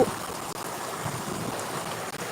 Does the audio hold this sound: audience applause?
no